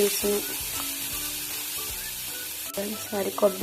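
Black pepper, cumin and coconut pieces fry over a low flame in a pan, giving a steady soft sizzle with a few clinks of stirring and brief voices.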